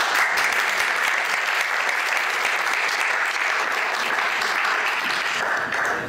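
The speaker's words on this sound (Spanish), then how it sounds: "Un aplauso antes, ¿no?" A conference hall audience breaks into a long, steady round of applause, many hands clapping evenly and densely from start to finish, tapering slightly at the very end.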